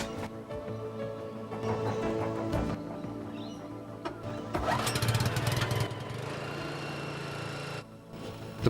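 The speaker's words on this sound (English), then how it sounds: "I'm just going to start the motor and we'll be into it" A small motor on a termiticide application rig sputters through a start and then settles into a steady, buzzing run like a lawn mower engine, close by and fairly quiet.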